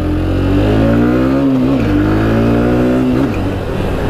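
A Discover 125 ST motorcycle accelerates close by, its engine note rising in pitch through two climbs with a brief dip between them, loud and steady.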